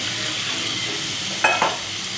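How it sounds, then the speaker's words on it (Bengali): Spiced food being sautéed in a pan during home cooking, a steady low sizzle with a couple of brief stirring scrapes near the end, close and alone. "ভালো করে এটাকে কষিয়ে নেব"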